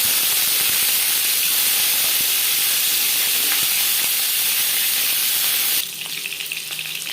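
Duck eggs fry in a pan with a loud, steady sizzle and hiss throughout, dropping to a quieter crackle near the end.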